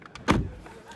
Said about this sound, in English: Again, good closing sound.